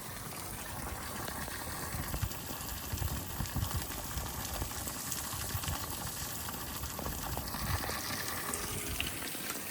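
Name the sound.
clean water gushing from pipe after pump switched on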